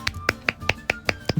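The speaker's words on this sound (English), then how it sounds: "Actually clapping." Hands clap seven times in a quick, even rhythm. The sharp claps are quiet and close, with no voices.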